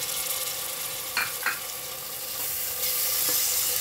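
Tomatoes sizzle steadily in a hot pan for a mixed vegetable sabzi, with a couple of brief spatula scrapes standing out from the continuous close frying hiss.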